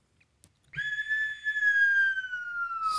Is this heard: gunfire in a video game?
no